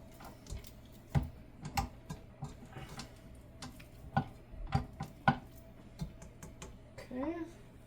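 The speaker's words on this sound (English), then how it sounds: "scrape the butter and the shortening off the beater and on to the sides here, down at the bottom" A spatula scrapes butter and shortening off a stand-mixer beater for buttercream frosting, making a series of sharp clicks and knocks at an uneven pace over a quiet background.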